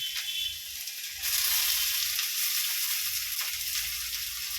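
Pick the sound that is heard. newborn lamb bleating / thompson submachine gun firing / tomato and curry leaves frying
tomato and curry leaves frying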